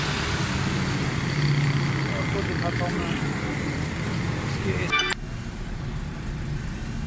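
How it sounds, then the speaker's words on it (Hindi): A Suzuki Cultus EFI engine idles steadily with its air conditioning running, a close, even low hum that holds constant under someone talking, then drops slightly quieter near the end. "ये देखिए भाईजान, गाड़ी का एसी चल रहा है, आरपीएम बिल्कुल स्टिल है।"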